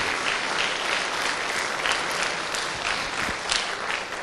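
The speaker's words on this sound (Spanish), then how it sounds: "Voy a darle un aplauso bien fuerte." Church congregation applauding steadily, a dense wash of clapping that holds at an even level throughout with no talk over it.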